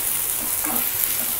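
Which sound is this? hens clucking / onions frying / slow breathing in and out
onions frying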